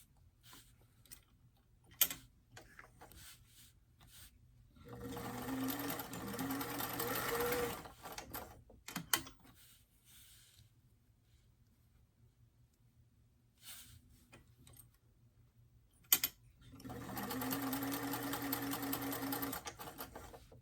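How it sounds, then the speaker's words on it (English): Sewing machine stitching the shoulder seams of a doll blouse, front to back, in two steady runs of rapid mechanical whirring separated by quiet pauses with small clicks and handling sounds. "we're going to go ahead and sew the front of the blouse to the back of the blouse at the shoulder seams"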